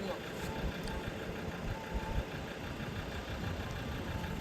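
Car engine idling at low volume in a steady, even rumble with no revving, heard a few seconds while people chat in the background.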